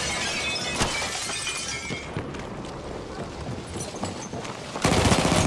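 Gunfire rings out in the video game Battlefield 1, with rapid cracking shots and shattering bursts over a busy battlefield din. A louder blast comes near the end, and no one speaks.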